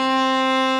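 A single sustained cello note from the Suzuki Book 2 Musette, bowed steadily and evenly, bright with rich overtones; very short, close and fairly loud.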